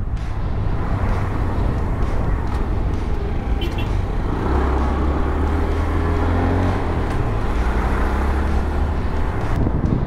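Honda MSX 125 Grom small motorcycle engine held at a steady drone while riding in fourth gear, with continuous road and wind rumble throughout and no talking.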